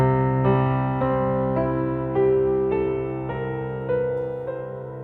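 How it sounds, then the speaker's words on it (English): Notes of the harmonic series are played one after another in a rising sequence over a sustained low tone, each new note entering about every half second and ringing on into a dense, steady chord, with no talking. "it eventually developed into what we call the harmonic row in music. And it sounds like this."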